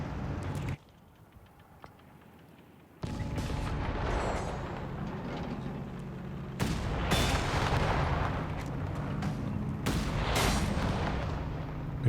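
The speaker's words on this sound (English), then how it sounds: "Big hits from the AT gun though." Heavy anti-tank gun fire booms through a Company of Heroes 3 battle, a 2v2 match, with several loud blasts and rumbling impacts arriving in bursts over continuous combat din, no one speaking.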